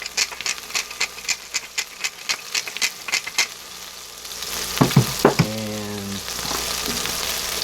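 Burgers with cracked black pepper cooking on a Power Smokeless Grill, a steady close sizzle under a series of rhythmic scraping taps, followed by a few sharp clanks and a brief tonal squeak.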